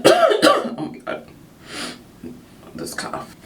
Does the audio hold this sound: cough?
yes